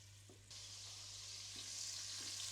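Floured beef pieces browning in a pan for a Hungarian paprika beef goulash, with a constant sizzle that grows louder partway through and a few faint soft knocks underneath.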